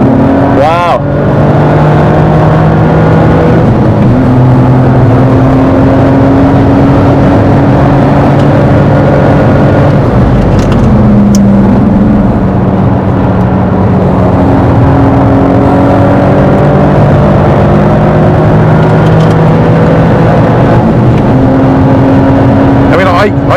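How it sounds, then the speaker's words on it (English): A Toyota Yaris engine roars steadily at around 140 mph, a loud continuous drone with wind and road noise and shifting engine tones, while someone talks over it throughout. "We're doing 140 miles an hour in a Yaris."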